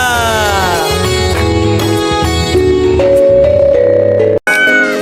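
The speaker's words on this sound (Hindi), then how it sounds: "बिल्ली करती म्याऊ" Cat meows sound over bright, melodic children's music, short rising and falling cries repeated several times, loud and close.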